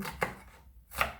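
Two sharp knife chops through an onion on a cutting board while preparing spaghetti and meatballs, evenly spaced with a short quiet gap between them, close and clear.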